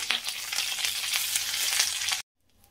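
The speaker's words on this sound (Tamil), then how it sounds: "கறிவேப்பிலை சேர்த்துட்டு ஒரு தடவை வதக்கி விட்டுக்கலாம்" Curry leaves sauté in a pan for a curry leaf thuvaiyal, giving a loud, steady crackling sizzle with stirring scrapes for about two seconds before cutting off to near silence.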